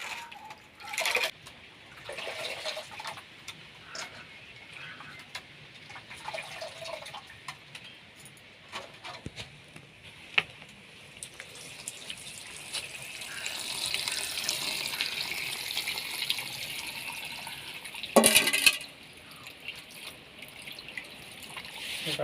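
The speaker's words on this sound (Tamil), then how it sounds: "இப்போ நாங்கள் தேங்காய் பாலை புழிஞ்சு விட போகிறோம்" Coconut milk is squeezed by hand into a sea fish curry in a village kitchen, giving a soft, continuous trickle and splashing of liquid with a few louder splashes near the end.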